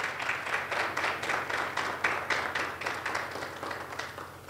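A room of attendees at a public service launch event gives a round of applause, a fairly quiet but steady patter of clapping hands that swells and fades slightly in waves.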